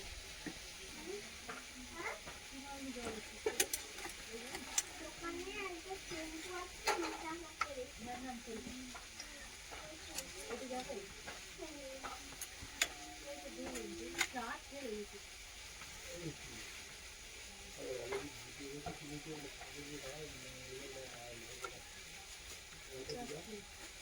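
Desi chicken meat frying in fatty oil in a pot, a constant sizzle with frequent scraping and clinking as a spatula stirs it, heard near and fairly quiet while someone talks over it.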